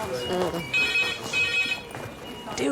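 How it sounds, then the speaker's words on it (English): A red emergency phone rings in a hospital A&E department, repeated electronic trill bursts in a regular rhythm, clear and moderately close, with staff talking over it. "Oh, that's the red phone."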